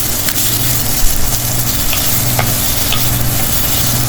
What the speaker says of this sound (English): Here I am adding about 1 medium-sized onion, some green chilies, and some garlic